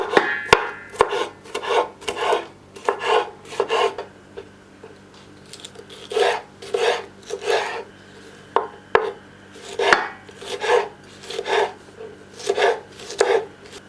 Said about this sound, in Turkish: Biberlerimi de bu şekilde doğrayacağım.